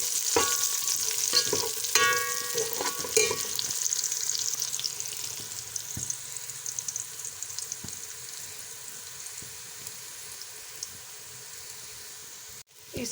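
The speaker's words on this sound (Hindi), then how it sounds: "अब हम इसमें खड़े गरम मसाले जो हैं वो ऐड कर देंगे" Whole garam masala spices sizzling in hot oil in a pan, with steady crackling hiss, a few sharp spatters early on and occasional stirring clinks, moderately quiet and without talk.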